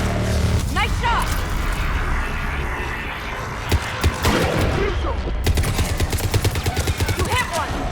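Gunfire in Mass Effect 3 on Thessia crackles through dense combat noise, with scattered single shots midway and then a rapid rhythmic burst of automatic fire near the end, voices talking over the battle.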